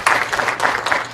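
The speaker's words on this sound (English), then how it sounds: "Let's clap for them." A short burst of crowd applause at a high school baseball game, dense clapping from many hands.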